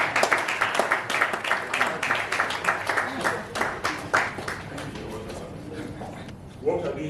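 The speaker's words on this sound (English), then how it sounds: "allow you to please feel free to give me a round of applause" An audience at a Nigerian media and public opinion event claps together, dense rhythmic applause that gradually thins and softens, with a voice coming in at the very end.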